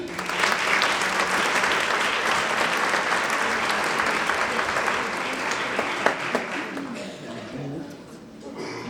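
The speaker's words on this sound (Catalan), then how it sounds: "Un fort aplaudiment." Sustained applause from a crowd at a town fair opening speech, steady and dense for several seconds, then thinning slightly near the end.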